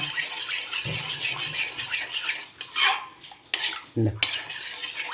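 A utensil stirs an aloe vera mixture in a bowl, with repeated clinking and scraping against the sides and a wet slosh, fairly close and loud.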